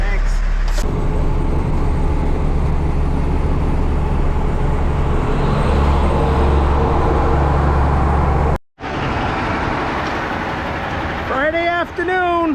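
Truck hauling asphalt millings rolls along with a loud, steady engine and road rumble close by, briefly cut off before resuming, with a few faint higher tones near the end.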